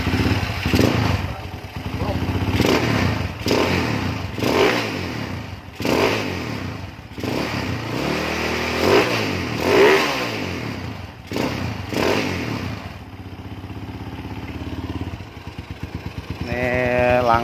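A Yamaha Scorpio motorcycle fitted with a PE 115 carburetor revs repeatedly up and down, loud and close, with swelling throttle bursts and a settling idle near the end; someone talks over parts of it.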